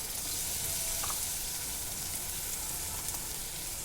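Spiced masala with tomato paste sautéing in a pan for a vegetarian thali, giving a steady, close sizzle with faint stirring scrapes and no talk.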